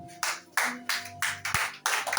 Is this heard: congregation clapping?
yes